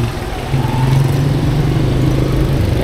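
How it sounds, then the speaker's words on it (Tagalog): Motorcycles pass along a city street in Davao City, a loud, continuous low engine drone with a steady hum, heard close by from a bike lane. "meron tayong mga motor"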